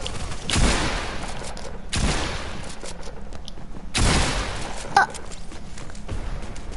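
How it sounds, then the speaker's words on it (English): Video game gunfire rings out in three loud, separate bursts spaced about two seconds apart, each a sharp crack-heavy volley that fades before the next. "He shot through the damn ground."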